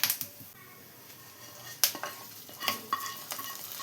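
Onion and dried chilli tempering, fried until well browned, poured into a drumstick and prawn curry, giving sharp sizzles and bursts of frying with stirring and clinks of a pan and spoon, close and moderately loud.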